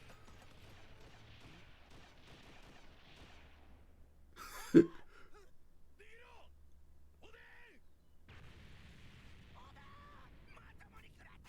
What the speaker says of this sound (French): Qui c'est qui a lancé une grenade?